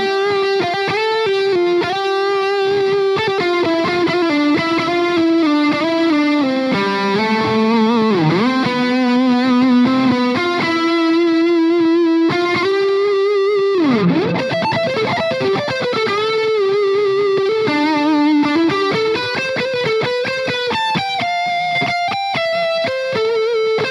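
Heavily distorted electric guitar through a high-gain ENGL Ironball SE tube amp with delay and reverb, playing sustained, singing lead notes with bends and slides, loud and saturated with echoing ambience throughout.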